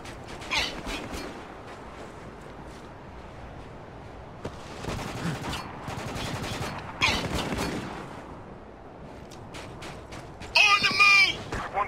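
Scattered bursts of gunfire in the shooter Spec Ops: The Line come in intermittent volleys of varying loudness, with mechanical clanks between them and a sharp, loud burst near the end.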